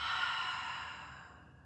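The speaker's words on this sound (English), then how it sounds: "breathing out." A single soft exhale during a gentle chair yoga session, a quiet breathy sigh that fades out over about a second and a half.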